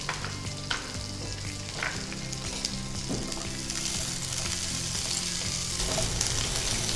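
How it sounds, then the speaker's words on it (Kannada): Onion and capsicum frying in oil, a loud close sizzle with constant crackle and occasional stirring clinks, unbroken for several seconds. "ಅದು ಎಣ್ಣೆಯಲ್ಲಿ ನೀರುಳ್ಳಿ ಮತ್ತು ಕ್ಯಾಪ್ಸಿಕಮ್ ಫ್ರೈ ಆಗುವಾಗ ಈಗ ಅದರಲ್ಲಿ ಬೇಯ್ತದೆ ಅದು."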